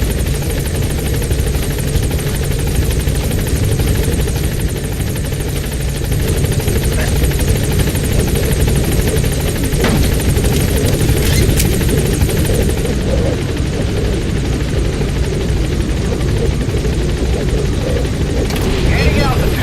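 Helicopter lifting off in the video game Metal Gear Solid V: The Phantom Pain, a loud continuous rotor and engine roar that holds steady throughout.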